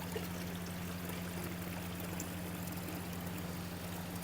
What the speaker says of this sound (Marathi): आता आपण याच्यात पाणी वाढवणार आहे.